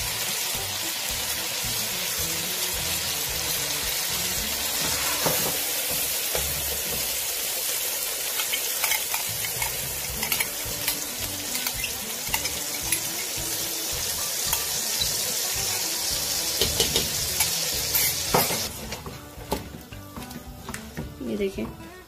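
Spiced masala sizzling loudly in a pan as a cup of yogurt is stirred in, a continuous frying hiss with stirring scrapes that quiets near the end, while someone talks over it.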